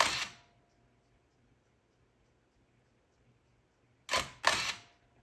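A Nikon F-401x film SLR on its self-timer fires the shutter twice in quick succession. The crisp double click comes after a long near-silent pause that follows an earlier single click.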